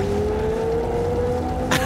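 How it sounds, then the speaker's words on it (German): A loud, steady car engine drone in the video game Jak and Daxter: The Precursor Legacy, with a sustained tonal hum, holding constant throughout, with a brief brighter burst near the end. "der Motor ist so laut!"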